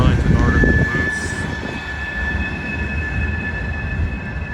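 A freight train with a Burlington Northern caboose rumbles past nearby on a rainy day, a low steady roll with a faint high whine above it, while a voice talks over the start.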